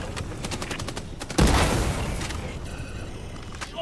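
Rapid automatic gunfire rattles in the Army of Two video game, with a burst of quick shots, a heavy boom in the middle and more scattered firing after, with no talk over it.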